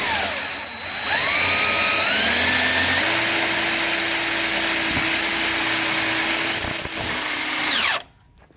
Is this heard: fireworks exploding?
no